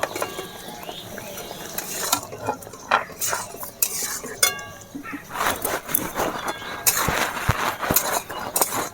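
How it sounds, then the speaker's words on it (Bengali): Fried cauliflower florets tipped into a pan of coriander- and chili-spiced masala and stirred for cauliflower rezala, with repeated clinks and scrapes of a utensil against the pan in an irregular rhythm, close and moderately loud, with no talking. "ভেজে রাখা ফুলকপিগুলো এবারে আমি দিয়ে দেব।"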